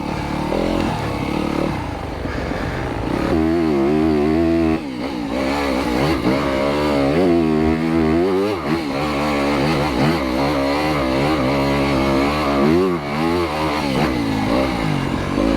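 Yamaha YZ250FX dirt bike ridden on tight single track, its four-stroke engine revving up and down in low gears with rising and falling pitch, loud and close throughout with clattering through rough ground.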